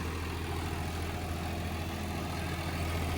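A John Deere tractor pulling an 8-foot rotavator through soil in a field, a steady, unbroken low diesel drone with a broad, noisy rumble that stays constant and fairly distant throughout, no voices.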